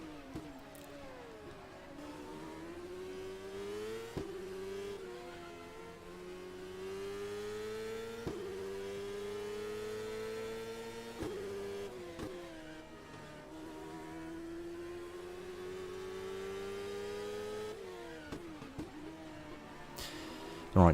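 IndyCar race car with a Toyota engine in a racing video game, revving and shifting through gears in repeated rising sweeps, a sharp high whine carrying steadily over about twenty seconds with brief drops between gears.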